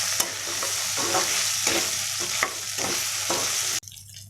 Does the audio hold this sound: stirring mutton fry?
yes